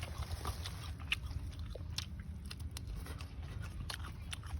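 Close, steady chewing and crunching of baked mussels topped with cheese, eaten with fresh backyard greens, soft biting and mouth sounds running continuously with no talk.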